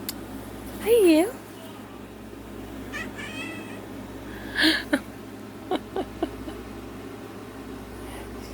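A female cat meows loudly near the start, then makes a few shorter chirping meows and soft trills, heard up close indoors with small clicks and quiet pauses between.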